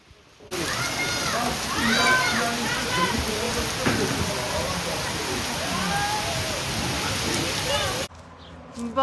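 Sea waves rush and rustle continuously along an Italian seashore, a dense, steady wash of surf heard up close, with faint voices blending into the roar before it cuts off abruptly.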